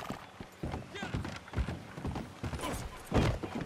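A horse gallops in Red Dead Redemption 2, with quick rhythmic hoofbeats pounding close and steady, mixed with game ambience and a voice speaking briefly.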